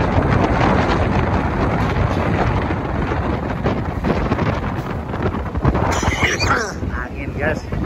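Strong storm wind roars across the microphone at the Merak harbour, a dense, constant buffeting rush with gusting swells throughout.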